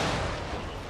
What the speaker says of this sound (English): Those explosions should grab their attention.